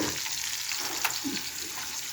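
Small galunggong fish frying in hot oil at home, a continuous close sizzle with light crackles and a faint sharp pop partway through, no talking.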